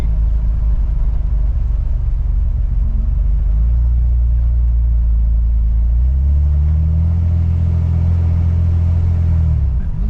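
Corvair car on a test drive, with a heavy, steady engine rumble heard from inside and a deeper droning pitch rising partway through as the car accelerates.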